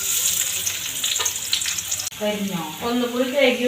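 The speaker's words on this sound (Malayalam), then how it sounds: "കുറച്ച് വെളിച്ചെണ്ണ ഒഴിച്ചു ചെറിയ ഉള്ളി അരിഞ്ഞു വെച്ചതാ കുറച്ചിട്ട് കൊടുക്കാം" Chopped small onions (shallots) hit hot coconut oil with a sudden loud sizzle, and a steady close frying hiss follows, while a voice speaks faintly underneath.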